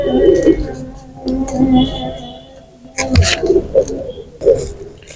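Pigeons, a Sarampuri and Kashuri cross kept for flying, give soft, low cooing calls in short repeated bursts, close by and mixed with other faint voices and noises.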